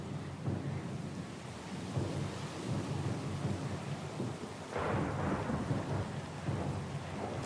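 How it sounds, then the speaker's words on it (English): Thunderstorm with steady rain in the fantasy role-playing game Pillars of Eternity II: Deadfire, low rumbling thunder rolling continuously under a hiss of rainfall, swelling louder near the end. "Lost and alone in the storm?"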